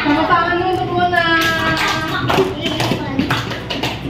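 A classroom of children applauds a classmate, a quick patter of many small hands clapping that follows a brief voice, with light chatter mixed in.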